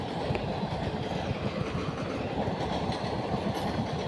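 A train rolls steadily past a closed level crossing, close and loud, with a continuous rumble and rhythmic clatter of wheels on rails and no voices.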